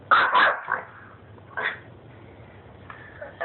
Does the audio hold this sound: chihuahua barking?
yes